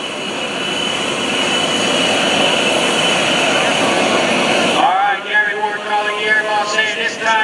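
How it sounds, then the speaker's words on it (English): An aerobatic airplane at the 2014 Greenwood Lake airshow roars loudly as the throttle goes up, a steady engine drone that rises in pitch and then fades, under an announcer's talk. "Gary Ward's got the throttle up."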